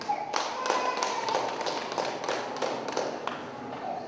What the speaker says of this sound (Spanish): Un aplauso a esta nueva hermana.